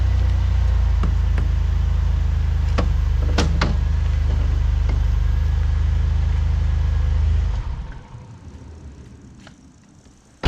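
A Saab 9-3 TurboX's loud, steady low rumble with sharp clunks and creaks from a bad front suspension spring over the bumps, fading to near quiet in the last few seconds.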